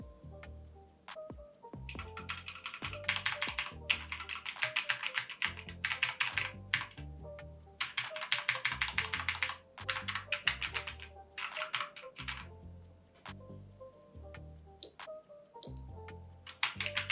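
Fingers type on a wireless keyboard in a steady run of quick, close key clicks with brief pauses and bursts, alone and fairly quiet throughout.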